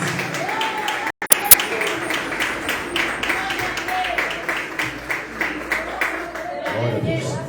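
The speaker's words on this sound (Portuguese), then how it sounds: "Palmas para Jesus" Applause from a church congregation welcoming a pastor, a steady dense clapping that fills the room throughout, with a sharp break and a few loud claps near the start and some voices mixed in.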